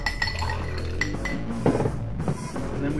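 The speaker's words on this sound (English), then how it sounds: "Add some ice." Ice cubes clink and rattle into a glass for an iced cold brew drink with syrup, a quick series of bright close clinks and knocks.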